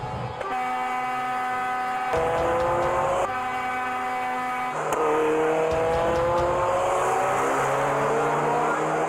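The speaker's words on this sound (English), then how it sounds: "our exclusive vision shows a modified car drifting from one lane to another at dangerously high speeds" Engine of a modified car drifting from lane to lane at dangerously high speed, a loud, close, high-revving tone that rises and drops sharply with gear changes and fluctuating throttle.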